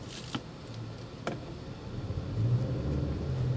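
A Toyota Grand Highlander hybrid accelerating from inside the cabin: a few light knocks over quiet road noise, then the engine kicks on and adds a low, steady hum that grows louder.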